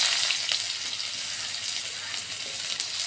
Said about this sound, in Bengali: আমার তেল গরম হয়ে গেছে, আমি মাছের লাগি পেঁয়াজটা একটু ভাজি।